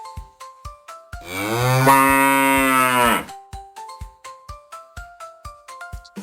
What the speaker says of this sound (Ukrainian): Це корова. Як корова з нами розмовляє? Му.